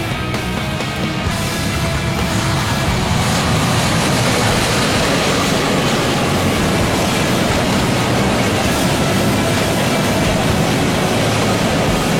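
A CC206 locomotive hauls a passenger train past, filling the air with a loud, steady, broadband rumble and roar that holds evenly throughout with no voices.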